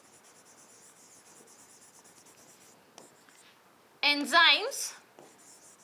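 Pen or chalk scratching across a surface in short strokes, a brief busy burst of writing near the end, while someone talks over quiet background hiss.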